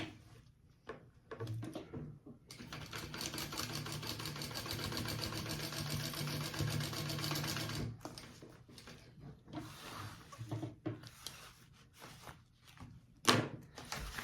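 A sewing machine stitches the lining of a sling at full seam allowance, running in one steady burst for several seconds, followed by shorter stitching bursts and light handling clicks.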